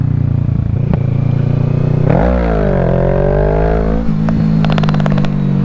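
A motorcycle engine on a Spokane winter ride revs hard during a wheelie, pitch sweeping up sharply, dipping and climbing again, then settling with some mechanical clatter; loud and close, no speech.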